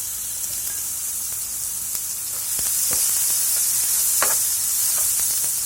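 Finely chopped tomato and garlic hitting a hot oiled pan, a bright continuous sizzle that jumps louder partway through, with scattered spatters and stirring scrapes close by.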